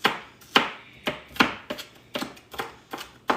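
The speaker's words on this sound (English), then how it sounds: "You want to chop it fairly small because you want it to be about the same size as your garlic" A knife chops onion finely on a board in a steady series of about eight crisp, close impacts with brief scraping between strokes, each strike sharp and clear, with no voices.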